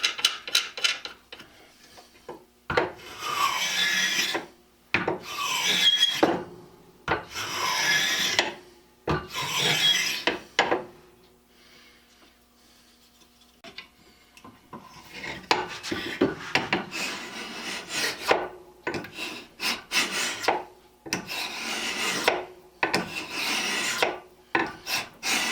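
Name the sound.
Stanley scraper plane cutting wood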